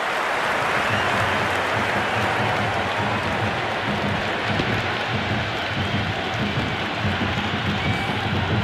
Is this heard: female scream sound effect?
no